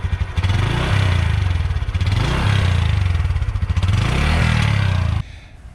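A Honda Super Cub motorcycle engine idles and revs in waves, a steady putt-putt exhaust throb close up, then cuts off near the end.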